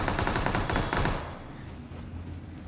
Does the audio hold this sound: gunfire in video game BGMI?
yes